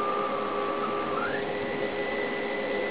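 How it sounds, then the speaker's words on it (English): A steady electronic tone from a 7.123 MHz oscillator comes through a radio receiver over hiss, shifting once to a higher pitch partway through, continuous and moderately loud with no voices. "You can hear the tone pretty clearly."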